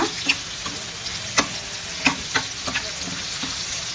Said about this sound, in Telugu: చూస్తున్నారు కదా ఎంత బాగా వేగుతున్నాయో